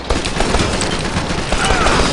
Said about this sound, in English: Let's see if I can pistol him.